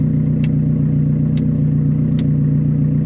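Porsche 944 Turbo that sat unused for five years, its engine idling with a steady low drone and a few sharp clicks or taps over it, loud and close.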